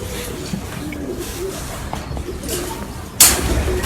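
Pigeons cooing on a city rooftop, soft repeated low coos over a steady background hum, with a sudden louder burst of noise near the end.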